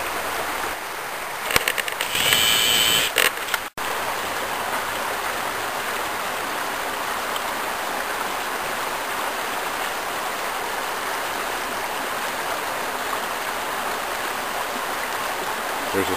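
Wilson Creek flows steadily as a broad, continuous rushing of water beside an old collapsing bridge, close and loud, with a brief clatter of handling noise early on.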